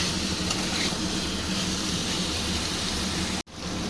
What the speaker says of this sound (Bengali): একদম 2-1 মিনিট ওলটার সঙ্গে খুব ভালো করে কষাবো